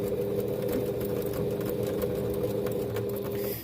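A sewing machine stitching fabric for a window face mask, a steady close mechanical whir with a rapid rhythmic needle clatter running continuously and easing off at the end.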